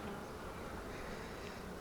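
Honey bees hum steadily around crowded hives at a spring apiary on a warm day after long rains, a dense, even drone with no voices.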